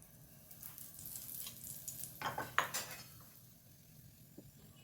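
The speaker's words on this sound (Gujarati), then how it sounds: "હવે આપણે એને શેકવા માટે અહીંયા 1 ટીસ્પૂન જેટલું ઘી લેવાનું છે." Topra ghari roasts in a teaspoon of ghee on a griddle over low heat, giving a faint, quiet sizzle with a few metallic spatula scrapes and clinks near the middle.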